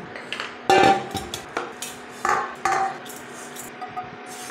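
Fried vermicelli with sugar is scraped and tipped out of a metal pan: a string of close, sharp clatters and scrapes of a spoon against the pan in uneven bursts, with no talking.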